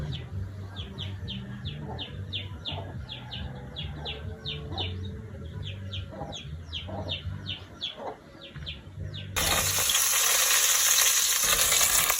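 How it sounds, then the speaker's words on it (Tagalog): Pork belly fries in oil with onion and garlic, a steady sizzle with rhythmic stirring scrapes, then a sudden louder, brighter hiss near the end. "ito ay mag golden brown, isusunod naman natin dito ating pork belly"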